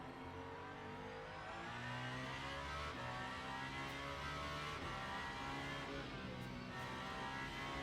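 A race car engine in the Le Mans Ultimate racing game drones steadily and faintly, its pitch climbing and easing with smooth acceleration and gear changes, alone without talk.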